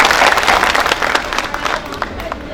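Sustained audience applause and clapping at a live Hindi comedy and poetry mushaira, dense and steady for a couple of seconds with some crowd noise mixed in, tapering slightly toward the end.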